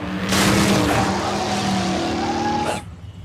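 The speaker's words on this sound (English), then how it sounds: "George just drives supercar all over jungle having fun." Cartoon supercar tearing through the jungle, its engine revving loudly with tires squealing in a skid, then cutting out sharply near the end.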